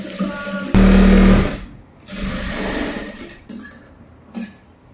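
A sewing machine stitches a size 38 gown, with a loud, close burst of rapid stitching followed by a softer, longer run and then a few brief clicks in a quiet workroom.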